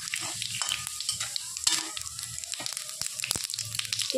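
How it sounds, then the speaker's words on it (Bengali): Bay leaf, dried red chili and white cumin seeds sputter and sizzle in hot oil in a pan, a steady close frying hiss with sharp crackles and pops scattered throughout, no voices. "তেল গরম হয়ে গেছে, দিয়ে দিব তেজপাতা, শুকনো লঙ্কা,"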